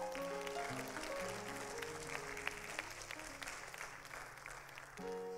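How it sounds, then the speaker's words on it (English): Church congregation applauding during a thanksgiving service, soft and somewhat distant clapping that runs steadily under sustained organ or keyboard chords for the whole stretch. "So put your hands together so I shut up."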